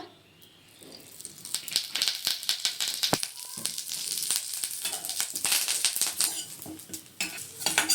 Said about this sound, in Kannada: ಸ್ವಲ್ಪ ಕರಿಬೇವನ್ನ ಕ್ರಿಸ್ಪಿ ಥರ ಹುರಿರಿ